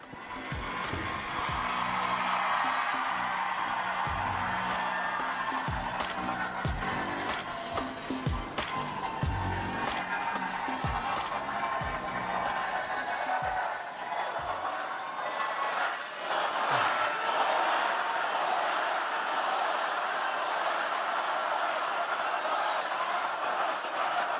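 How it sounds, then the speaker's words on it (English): A crowd cheers and roars continuously at a Brooklyn campaign headquarters for an election night celebration, a dense sustained wall of shouting and whoops, with a deep rumbling layer that drops away midway. "Is on the stage to an electrified crowd at Brooklyn headquarters"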